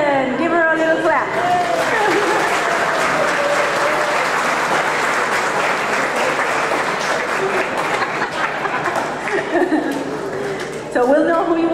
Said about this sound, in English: give her a little clap